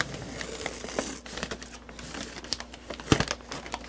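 An old sticker marquee is peeled off an Asteroids-era arcade cabinet with a continuous crinkling, tearing rasp and scattered sharper crackles and pops, close up and with no voices.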